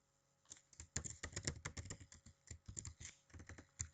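A 12-character password is typed on a computer keyboard. The keystrokes come in rapid, irregular clusters with brief gaps, close and clear, and no voices are heard.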